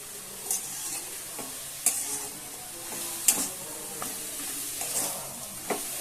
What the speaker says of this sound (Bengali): এখন এইভাবে আমি নাড়াচড়া করে আস্তে আস্তে করে পুরটা তৈরি করে নিচ্ছি